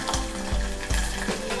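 Green chillies, ginger pieces and curry leaves fry in a pan for a finger millet upma. There is a close, steady sizzle with soft crackles and bursts of stirring, and no talking.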